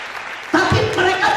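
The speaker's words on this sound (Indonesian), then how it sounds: "Tepuk tangan buat jemaat Tuhan, semua jemaat Tuhan" Applause breaks out partway through a Christmas church service sermon, a sudden burst of clapping from the congregation that continues steadily, mixed with some voices.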